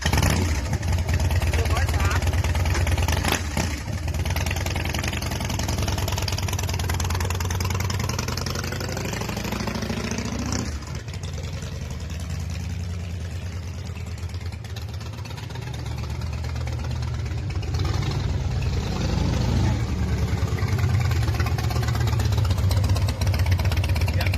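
A 2012 Harley-Davidson Softail Slim motorcycle engine runs loud and close with a steady, throbbing idle that dips briefly midway, while someone talks over it throughout.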